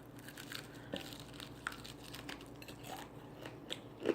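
Crunchy baked flaming hot chicken wings from Aldi are chewed close to the mic, giving irregular crisp bites and crackly crunches over several seconds, with no talking.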